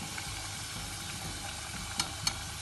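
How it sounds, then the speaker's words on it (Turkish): Potatoes frying in hot oil in a pan while making Turkish köfte, a steady soft sizzle running throughout with a couple of brief louder pops near the end. "Ben iyice kızartıyorum"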